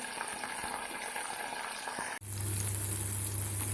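Cumin seeds hit hot oil in a pan while Sundakkai kulambu is being cooked, and a close, steady frying hiss swells suddenly and holds loud.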